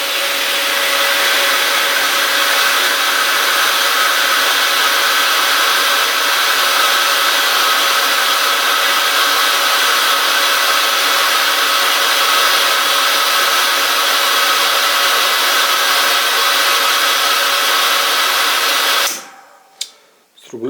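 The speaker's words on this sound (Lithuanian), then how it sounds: "Siurbliai pradeda veikti, uždarau sklendę" Electric water pumps run at a steady, loud, unbroken whir through almost the whole stretch, part of a home pressure-switch setup with a valve being closed, then cut off abruptly near the end with a couple of brief clicks.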